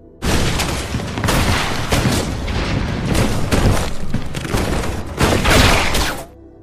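A loud, sustained explosion, with a dense roar of bursts and crashing debris for several seconds before it cuts off.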